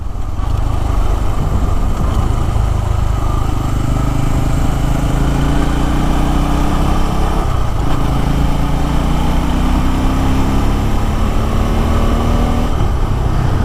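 A Bajaj Pulsar N250 motorcycle engine lugging at low speed in fifth gear gives a loud, close, steady drone with a hum whose pitch slowly sags and rises. No voices are heard.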